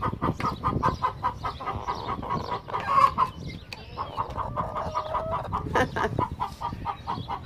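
Hens clucking noisily in a backyard garden flock, a dense stream of overlapping clucks and squawks close by, with a few louder calls rising above the chatter.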